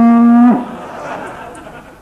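A calf lets out one loud, close, drawn-out moo that breaks off abruptly, followed by faint background murmur.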